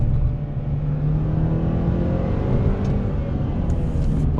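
2017 Mercedes-Benz C300 4MATIC accelerating from a stop into traffic, a steady, rising engine drone heard close from inside the cabin, continuous throughout with no talk.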